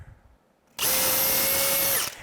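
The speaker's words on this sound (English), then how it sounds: "we can go ahead and drill these holes" A power drill bores holes during a wiring job, starting abruptly and whining steadily at high speed for just over a second before spinning down. It sounds close and loud, and no one speaks.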